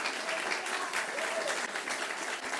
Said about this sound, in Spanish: Denle un aplauso a estos hermanos en el nombre del Señor.